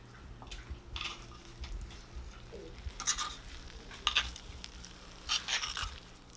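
Bibimbap being mixed in a hot bowl with rice crisping at the bottom, soft sizzle under intermittent scraping and clinking strokes of a utensil against the bowl, fairly quiet and close.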